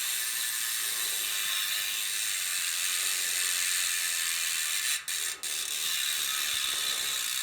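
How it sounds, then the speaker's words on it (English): A Hunt Trail Wide V2 bicycle hub freewheels with a fast, continuous ratcheting buzz of pawl clicks, steady and close, briefly interrupted twice near the end. "For those wondering how the hubs sound"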